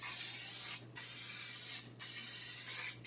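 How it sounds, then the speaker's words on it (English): Cooking spray hisses into a cast iron pan in three close, steady bursts separated by brief pauses. "I'm going to spray some cooking spray in there"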